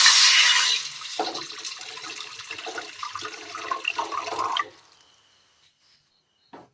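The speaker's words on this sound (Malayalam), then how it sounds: "അടുപ്പത്തൊരു പാത്രം കൂടി വെച്ച് കൊടുത്തിട്ട് അല്പം വെള്ളം ഒഴിച്ച് കൊടുക്കാം" Water gushes and splashes steadily into a pot on the stove for a few seconds, close and fairly loud, then cuts off into near silence with a faint clink at the end.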